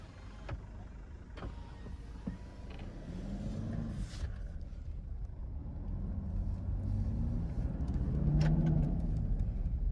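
A car is parked at a village cricket ground, its engine rumbling low and close while the vehicle creeps and settles, with a few mechanical clicks and thumps.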